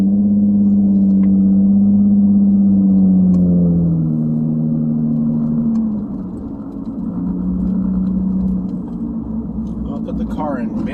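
A 2011 Nissan Maxima SV with a loud custom exhaust cruises in manual mode, its steady low engine drone and rumble filling the cabin and dipping briefly midway, with a voice speaking over it.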